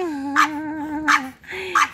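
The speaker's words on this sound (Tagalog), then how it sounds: "Ito naman, non-stop din na tahol ng tahol." Several dogs yap and bark sharply in three quick bursts, close and loud, with a whining tonal cry between the barks.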